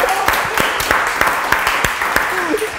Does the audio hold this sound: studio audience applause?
yes